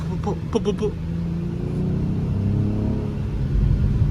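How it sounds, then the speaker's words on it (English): Exhaust of a 2021 BMW M440i heard from inside the car while driving, a low steady rumble with small popping burbles, under a voice talking at the start. "You can hear little burbles in the back."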